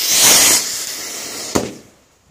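At a New Year's Eve celebration, a firecracker under a beer can hisses loudly as its fuse burns, then a sharp bang launches the can into the air, followed by a fading hiss.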